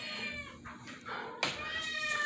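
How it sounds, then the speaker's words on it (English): A rambunctious young male cat meows repeatedly indoors, several drawn-out, insistent cries close by, with people talking faintly around them and a sudden clatter partway through. "get this crazy cat away from me"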